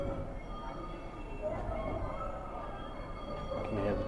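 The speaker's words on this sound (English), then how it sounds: "You can hear the train" A train passes outside a motor museum, a low, distant rumble that swells slightly toward the end, heard indoors behind faint room noise and scattered voices.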